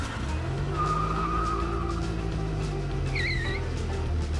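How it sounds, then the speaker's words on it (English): A drifting car sounds under a cartoon-like mix, with tires skidding in a few rising squeals over a low, continuous engine hum at moderate level. "I've always dreamed of drifting."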